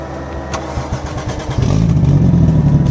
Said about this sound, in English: So let's give these guys a little startup from them.